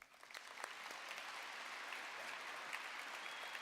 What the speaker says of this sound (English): If you'll please join me in giving them a round of applause